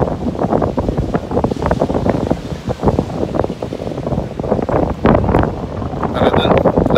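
Strong wind buffets the microphone at the seashore in Bangui, Ilocos Norte, with surf washing in steadily underneath, loud and close, gusting unevenly throughout.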